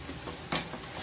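Chicken filling with kasuri methi stirs and sizzles in a pan, a brief close frying hiss with a sharp scrape of the spoon midway.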